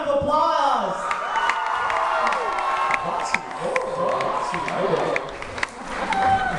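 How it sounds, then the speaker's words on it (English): A lively crowd cheers and whoops loudly and continuously at a talent show, with excited shouts and voices rising and falling throughout the stretch. "Let's give a round of applause."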